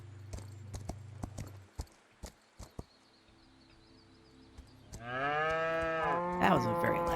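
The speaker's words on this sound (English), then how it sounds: "I don't have to dismount to milk these cows." Cows mooing in the farming video game Equinox: Homecoming, a long loud close moo following a run of hoof clip-clops and clicks, with no speech.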